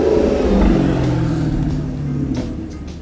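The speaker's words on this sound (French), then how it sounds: "Une petite R8." An Audi R8 sports car engine revs up close at a roadside start podium, a loud rising roar that eases off within a few seconds.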